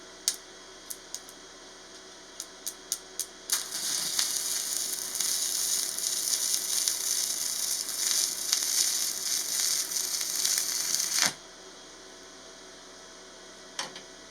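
Stick (MMA) arc welding on clamped steel pieces: a few sharp ticks as the arc strikes, then a steady loud crackling sizzle for about eight seconds that cuts off abruptly, followed by quiet and one faint tick.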